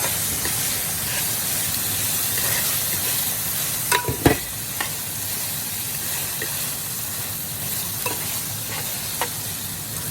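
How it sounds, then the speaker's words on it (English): Meat and onions sauté in a stir-fry pan with a steady, loud sizzle throughout, broken by a few sharp clanks of stirring near the middle. "we're gonna put in our onions. Saute everything for about another minute."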